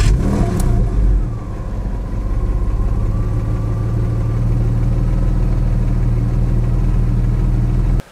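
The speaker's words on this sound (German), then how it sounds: "lasst uns mal den Sechszylinder Boxermotor anschmeißen und eine kleine Runde drehen" A 1999 Porsche 911 Carrera 4 Cabrio (996) flat-six boxer engine cranks and catches, then settles into a steady, close, loud running drone with slight swells in pitch. No voices.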